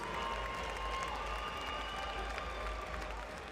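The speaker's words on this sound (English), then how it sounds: "Las Vegas, how about a big round of applause for these two valiant warriors?" A Las Vegas boxing arena crowd applauds and cheers for two fighters after a bout, a broad steady roar of clapping and crowd noise throughout, with a low rumble underneath.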